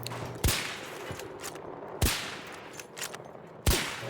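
Three loud, sharp single gunshots from one-shot guns in the video game Battlefield 2042, spaced about a second and a half apart, each ringing out briefly against a quiet background.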